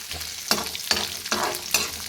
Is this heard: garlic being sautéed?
yes